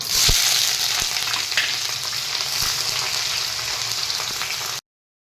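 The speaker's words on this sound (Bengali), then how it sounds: "একটু পেঁয়াজটা ভালো ভালো করে ভাজা করবো" Onions sizzle steadily in hot oil in a pan with whole spices—dried chilli, bay leaf, cinnamon and garam masala—for an echor kalia (jackfruit curry), a dense close hiss with occasional stirring clicks, no voices.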